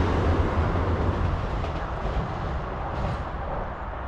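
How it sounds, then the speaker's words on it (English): A South Western Railway passenger train rumbles past near Hilsea station in Portsmouth, giving a steady, fairly loud broadband roar that holds for several seconds and eases slightly toward the end, with no talking. "Southwestern train."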